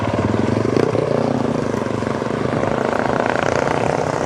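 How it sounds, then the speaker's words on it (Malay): Loud, steady police helicopter engine noise with a throbbing rotor pulse, sustained and close throughout, flying overhead in Malaysia. "kelihatan helikopter polis juga beredar di kawasan ini"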